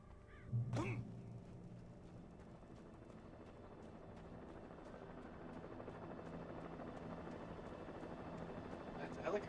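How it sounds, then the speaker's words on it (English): Helicopter in the video game Alan Wake: a steady rotor drone holds throughout at moderate level beneath a brief sharp thud near the start, with game voices talking over it. "That's a helicopter."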